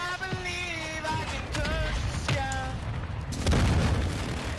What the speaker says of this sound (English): I called in a mortar